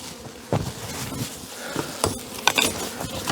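Honey bees buzzing around a hive on a warm day while a package of bees is being installed, a steady low hum with a few louder passes close by and no talk.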